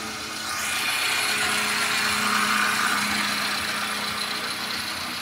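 A Mercedes W203 Kompressor with a 5G-Tronic automatic gearbox runs with a steady, continuous engine drone, close and fairly loud, holding an even level throughout with no voices.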